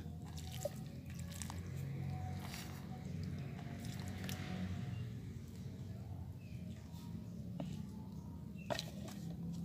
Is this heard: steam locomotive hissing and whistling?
no